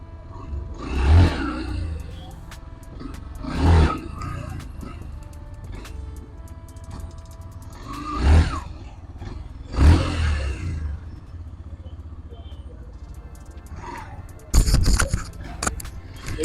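A motorcycle engine revs in five loud surges, each rising and falling back to idle, with a final burst at the end.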